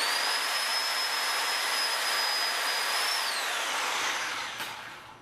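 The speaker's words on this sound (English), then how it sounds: "Sawzall is much quicker." A Sawzall reciprocating saw cuts through a rubber suspension bump stop on a Nissan 240SX, a loud, steady high-pitched motor whine that dips in pitch near the end and trails off as the cut finishes.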